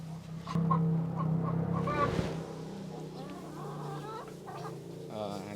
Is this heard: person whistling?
no